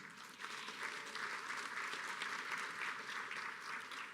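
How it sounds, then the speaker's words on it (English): Audience applause at an anniversary celebration event, a steady dense wash of clapping from a crowd sustained for about four seconds at moderate distance, without talk over it. "you already did one more round of applause"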